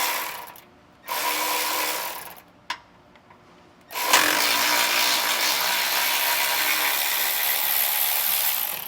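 A 10mm socket breaking a bolt loose on a 2024 Ford during a SumoSprings helper-spring setup. A power tool whirs in two short bursts, then runs in one long, steady, loud stretch close by.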